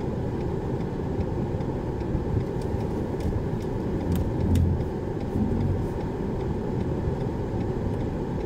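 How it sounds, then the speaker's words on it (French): Car idling and creeping forward into a parking space between two vehicles during a French driving exam at Rungis: steady low engine hum and road rumble, close and continuous, with no talk. "il faut se garer en marche avant"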